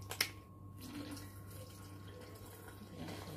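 Lukewarm water pours into a cooking pot, a soft, faint trickling and splashing that runs on steadily after a couple of small clinks.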